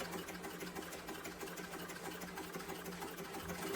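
A sewing machine runs steadily at an even, continuous hum and rattle while stitching a sling bag, close and constant throughout with no voices.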